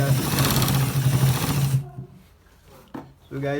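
A sewing machine stitches a designer shirt with a steady, rapid mechanical whir that runs loudly for nearly two seconds, then stops, followed by brief bursts and a voice speaking.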